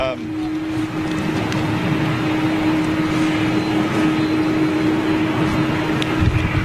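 A jet airliner with GE CF6 engines in flight, heard from inside the cabin as a continuous loud broadband roar with a steady droning hum beneath it, while people talk over it.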